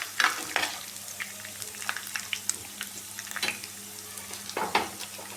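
Mustard seeds and cumin fry in a pan, a soft continuous sizzle broken by scattered sharp pops and crackles as the seeds burst, with a few clustered bursts of activity.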